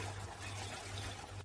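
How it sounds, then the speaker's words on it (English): Durian coconut wine being poured into a fermentation tank, a steady soft liquid trickle with a constant low hum underneath, continuous and close for the whole moment. "so we can pour it into the fermentation tank for the next step"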